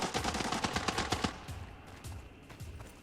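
Gunfire in the Arena Breakout video game, with a rapid burst of automatic shots for about a second followed by a few sparser, quieter reports. No one talks.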